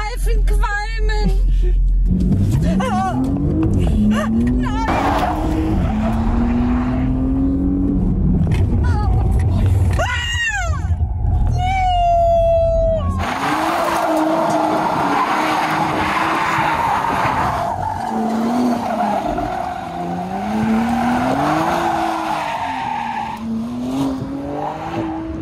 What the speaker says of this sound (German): Ich will die Reifen qualmen.